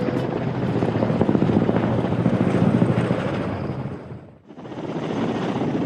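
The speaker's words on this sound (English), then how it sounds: "Ka-226 helicopter." A Ka-226 helicopter with gas turbine engines flies past with a loud, steady rotor thrum and turbine whine. The noise briefly drops away near the end, then returns.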